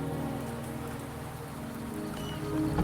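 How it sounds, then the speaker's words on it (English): Steady rain falls in the video game Wuthering Waves, a dense, even hiss of drops on surfaces that swells slightly near the end, with no voices over it. "The rain is subsiding, and the sky will soon clear."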